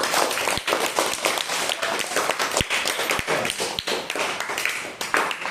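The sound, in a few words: applause, group clapping in a classroom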